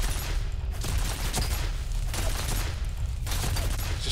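Sustained gunfire in the shooter game F.E.A.R., dense rapid bursts of shots with brief pauses between volleys, loud and close over a rumbling background.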